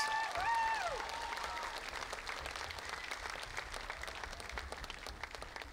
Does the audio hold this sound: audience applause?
yes